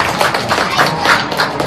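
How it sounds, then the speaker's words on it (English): Audience applause at a state fair stage show, steady dense clapping from a crowd, fairly loud and continuous throughout. "Let's have a nice round of applause for Miss Electra."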